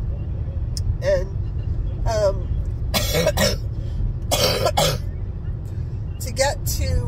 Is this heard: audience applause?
no